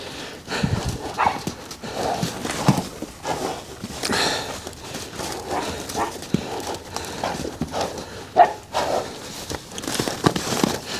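An Arabian stallion in training moves about on the ground, irregular hoofbeats and shuffling steps close by with occasional snorts, no talk.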